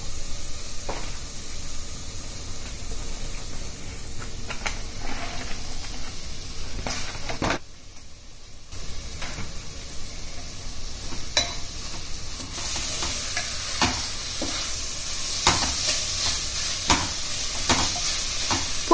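Chopped banana flower sizzles and hisses steadily as it is stirred and sautéed with tomato in a pan for banana flower biryani, with a brief quiet gap and scraping stir sounds, no talking.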